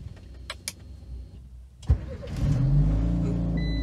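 A car started with a push-button start-stop system: a few faint clicks, a sharp thump as the starter engages, then the engine catches and settles into a steady, fairly loud idle.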